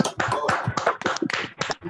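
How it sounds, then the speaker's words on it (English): Online audience clapping for three speakers at an alternative energy awareness session, close and loud bursts of hand claps in a quick uneven rhythm, like a few people clapping near their microphones. "give the three speakers a huge round of applause"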